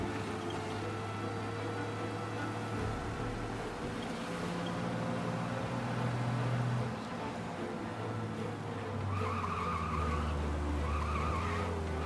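Car from Mafia: Definitive Edition speeding in a chase, with a continuous loud engine drone, shifting revs and sustained tire skidding layered over game ambience throughout.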